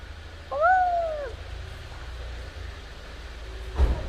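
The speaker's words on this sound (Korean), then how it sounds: "가까이 가지마 고양이한테" A single cat meow with a rising-falling pitch, fairly close, against a low rumbling background hum; a faint click near the end.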